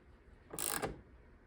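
A short burst of ratcheting as a small bolt is tightened on a 1997 Jeep XJ LED brake light assembly, close and fairly quiet, lasting under half a second with no talking.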